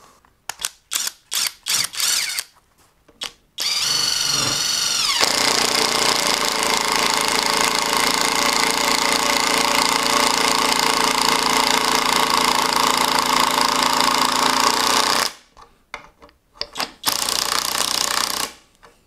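A Uaoaii 650Nm impact wrench drives into hard wood with a loud, sustained rattling hammer of about twelve seconds, framed before and after by short bursts of hammering and brief pauses, close to the listener.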